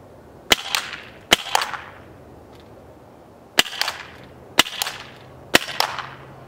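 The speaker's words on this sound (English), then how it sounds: "So let's see what this shotgun can do." A Walther SG 9000 CO2 airsoft shotgun fires six sharp, loud cracks at irregular intervals, each followed by a short rattling echo of pellets striking. No one talks.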